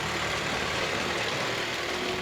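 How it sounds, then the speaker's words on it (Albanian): Traffic rumbles continuously nearby, with engines humming and droning as cars pass along a street, steady and fairly loud with no talk. "lagje shumë e frekuentume për i veturat."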